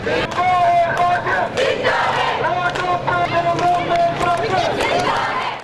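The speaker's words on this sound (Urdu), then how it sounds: "ریلی کے شرکا نے کمشنر آفس کے باہر دھرنا دیا اور شدید نعرے بازی کی" Medical college students at a rally chant slogans loudly outside a commissioner's office, a dense crowd of raised voices shouting in repeated rhythmic bursts, close and continuous throughout.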